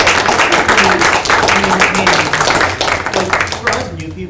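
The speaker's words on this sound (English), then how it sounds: "Round of applause for the." Audience at the Harwood Community Association meeting breaks into applause, a dense, steady clatter of many hands clapping that fills the room before tapering off at the end, with some voices mixed underneath.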